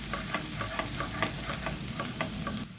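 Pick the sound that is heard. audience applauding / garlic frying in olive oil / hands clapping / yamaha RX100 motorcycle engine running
garlic frying in olive oil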